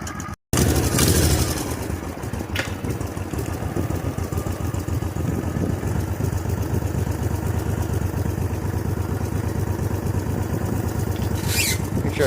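An 18 hp V-twin minibike engine idles steadily while warming up on a cold start, a close, loud, continuous rumble with an even pulse, broken only by a brief cut near the start and a few faint clicks.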